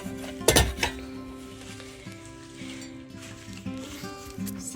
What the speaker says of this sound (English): Let me get these bowls.